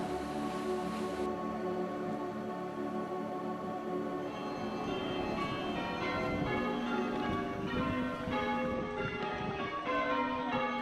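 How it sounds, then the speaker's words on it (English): Church bells ringing out over a village sports field in New Ash Green, heard as a steady, continuous peal with dense overlapping tones, moderately distant and without talk. "The sound of the bells drifting from the church across the sports field to call the flock to prayer"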